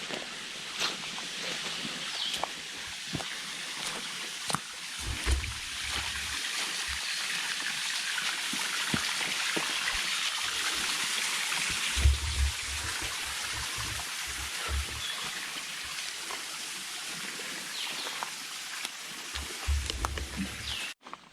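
A creek flows along a woodland trail in a soft, steady trickle and wash, faint and continuous, with occasional low thumps and rustles from someone moving nearby.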